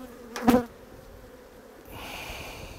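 Honey bees hum at an opened hive, a brief loud buzz close by early on, then a steady softer drone from the colony.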